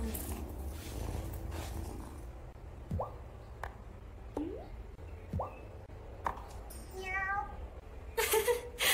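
A cat in the farming-life video game Wylde Flowers lets out a few short, quiet meows spaced apart over soft ambient game background, followed by a brighter chirpy call near the end.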